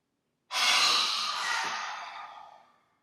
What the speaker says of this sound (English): So we'll all breathe in together.